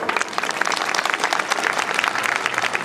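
A school audience at a primary annual function breaks into dense, continuous applause, many hands clapping together at an even level for a few seconds.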